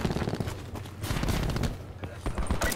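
Rapid bursts of gunfire in a first-person shooter Hardpoint match, dense and loud, with a player talking over the shots.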